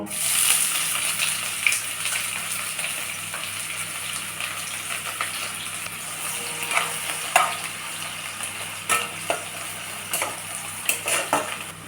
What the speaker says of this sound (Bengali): এবার আমি তেলটা গরম হয়ে গেছে, পেঁয়াজ কুচিটা দিয়ে দেব